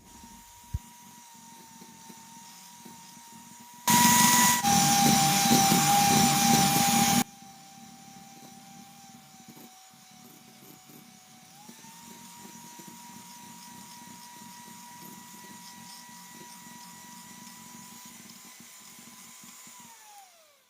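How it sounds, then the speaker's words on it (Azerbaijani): An electric hand mixer whisks cream for a sponge cake with a steady high motor whine that shifts in pitch, interrupted by a loud burst of grinding noise near the start. "Sonra mikserlə qarışdırıram"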